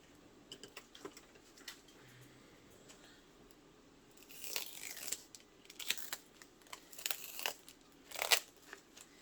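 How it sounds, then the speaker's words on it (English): Packing tape is peeled off a diamond painting kit package, giving faint scattered crackles and then louder ripping, crinkling bursts in the second half, close by, with no talking. "let's get this tape off"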